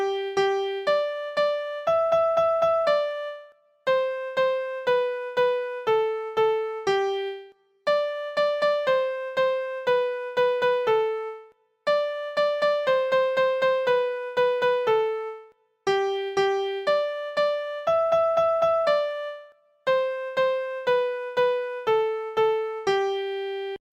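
The nursery rhyme Baa Baa Black Sheep plays as a simple plucked, bell-like melody of single notes in a steady rhythm, its phrases repeating with short pauses between them and no voices.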